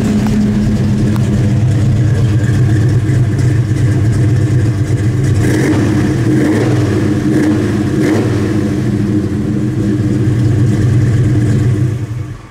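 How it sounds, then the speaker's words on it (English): A 1970 Chevelle SS convertible with dual exhaust revs loudly and steadily, a deep rumbling throb rising and falling slightly for several seconds before cutting off at the end. "I'll give her some RPM and then we'll shut her off so you can hear it"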